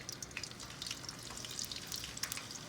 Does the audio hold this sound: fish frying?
yes